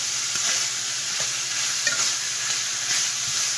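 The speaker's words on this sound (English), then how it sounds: "Once this meat is fully browned, we will be setting it aside." Beef browns in a hot pan for sukiyaki, giving a loud steady sizzle with occasional crackles and stirring scrapes, no voices.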